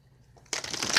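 A tarot card deck is shuffled after a quiet lead-in, the cards suddenly riffling and rustling loudly for the second half, close to the listener with no talk.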